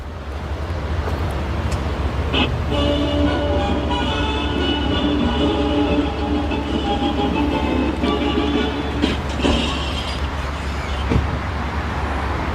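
Lock sound of an XPENG G6 electric car: a steady layered electronic tone of several pitches sounds for about seven seconds over low, constant background rumble, then cuts off, with no talk.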